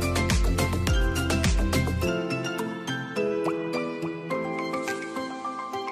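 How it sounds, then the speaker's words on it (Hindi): Grated apples pressed with a spoon to squeeze out juice give a run of quick, close wet squishes and plops at first, then sparser drips and soft clinks. "अब मैं चम्मच की मदद से इसको दबा दबा के सारा जूस निकाल लूँगी।"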